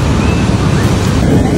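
Ocean waves wash onto the fine dark sand of Bagasbas beach, a loud, steady roar of surf with wind rushing across the microphone and no clear breaks.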